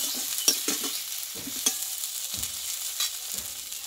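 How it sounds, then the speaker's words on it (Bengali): Spice paste sautéed and stirred in a pan for a vegetarian panch phoron pointed gourd and greens dish, with a steady broadband sizzle and scattered scraping stirs, close and fairly loud, no voices. "দেখো বন্ধুরা এখানে কিন্তু মশলাটা ভালোভাবে কষিয়ে নিয়েছি"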